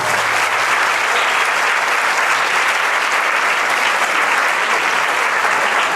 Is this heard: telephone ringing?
no